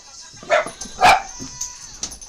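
Dogs bark in a few sharp yips and barks, two louder bursts followed by smaller ones, fairly close and with no talk over them.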